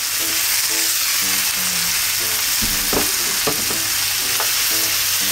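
Cabbage sears in oil in a hot frying pan, giving a steady, dense sizzle that runs throughout with a few soft knocks and scrapes of handling.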